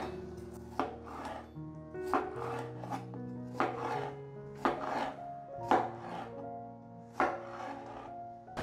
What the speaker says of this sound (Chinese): 准备2颗番茄，切成块，先把蒂头去掉， 随意的切成块状